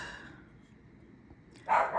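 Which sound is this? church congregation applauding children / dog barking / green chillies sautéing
dog barking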